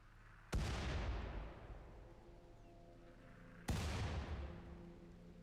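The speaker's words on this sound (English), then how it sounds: "I think the explosion of the auto turret might get it" An auto turret exploding in RimWorld: two sharp, loud booming blasts about three seconds apart, each with a long rumbling decay.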